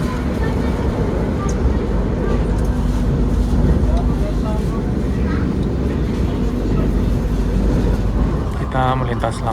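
Logawa economy train rolling through Solo Jebres station without stopping, a steady loud low rumble and hum from on board, with voices talking faintly over it.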